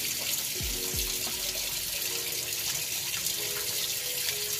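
Tap water runs steadily and loudly during surgical handwashing, a continuous close splashing stream with brief gurgles near the start and no voices.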